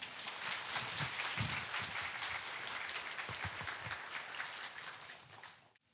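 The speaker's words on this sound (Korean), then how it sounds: "뜨거운 박수로 목사님 모시도록 하겠습니다" Church audience gives a warm round of applause welcoming a pastor to the pulpit for a sermon, steady dense clapping filling the room for about six seconds before tapering off at the end.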